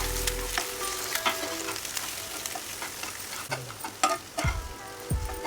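Beaten egg cooking in a frying pan for chicken fried rice sizzles steadily, with scraping and stirring clatter and several low thumps of a utensil against the pan, and no voices.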